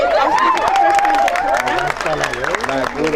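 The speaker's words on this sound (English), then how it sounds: "give a big round of applause for TV" A crowd applauds steadily, dense clapping mixed with cheering and voices over it, loud and sustained throughout.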